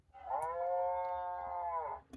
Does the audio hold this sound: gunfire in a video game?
no